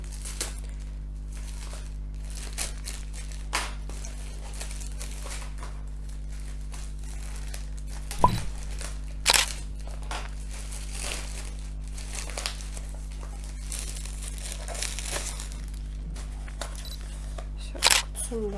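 Packaging of drawing supplies is opened with intermittent crinkling and rustling, a few sharp snaps and crackles standing out over a low steady hum, close by.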